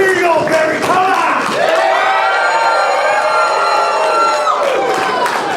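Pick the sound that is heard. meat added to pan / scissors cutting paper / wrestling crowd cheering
wrestling crowd cheering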